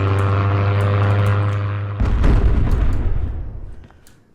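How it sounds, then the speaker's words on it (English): Bombing run in the video game Misery: a droning aircraft hum gives way to a heavy booming explosion that rumbles and slowly fades, loud and alone with no talk. "Ah, and a bombing run."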